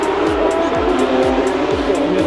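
Porsche race cars circling at the Melbourne Grand Prix circuit, a loud continuous engine roar with repeated pass-by swells every half second or so as cars sweep past nearby.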